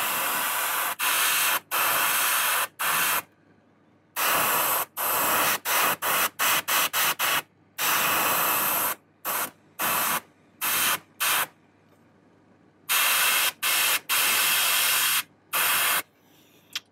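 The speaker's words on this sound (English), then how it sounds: "Now we're going to follow this down lightly, more distance between the lure and the airbrush." An airbrush spraying a light tint of paint over a handmade fishing lure, sounding as repeated close hissing bursts of varying length that cut off abruptly into near silence between passes.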